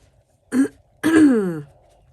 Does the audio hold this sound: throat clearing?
yes